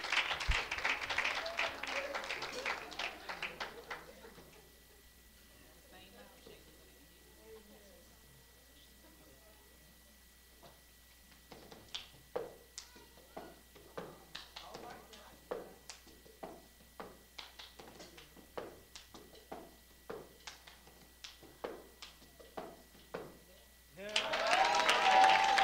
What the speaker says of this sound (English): Give her a hand clap